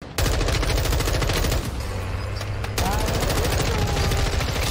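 M4 assault rifle in Warzone 2 rattles out loud, rapid automatic bursts of game gunfire, nearly continuous, with one short lull of lower rumble in the middle before the rapid shots resume.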